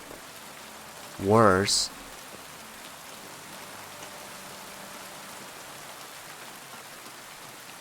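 Steady rain in the medieval open-world game Kingdom Come: Deliverance 2 hisses as a constant broadband wash throughout, briefly interrupted by a short spoken word near the start.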